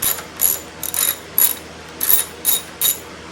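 A ratchet loosening a T30 screw on an evap purge unit, with about seven short, crisp bursts of clicking pawl strokes close to the mic, alone with no talk.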